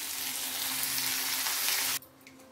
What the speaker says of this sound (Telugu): ఇందులో సోయ కూర ఆకుని ప్యాన్లో వేసేయాలి.